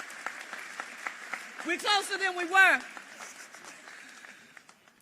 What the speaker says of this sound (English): Give the sheriff a huge round of applause